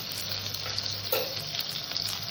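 Ginger paste frying in hot oil with tomato in a pan, cooked for a prawn and taro curry: a steady, close, bright sizzle that holds evenly for a couple of seconds.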